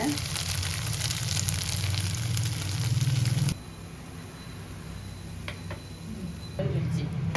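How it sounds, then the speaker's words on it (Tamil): Food frying in a pan for homemade Hyderabadi paneer biryani, a steady loud sizzle and crackle that drops to a quieter hiss partway through and then swells again. "நல்லா இந்த மாதிரி ஃப்ரை பண்ணிக்கோங்க."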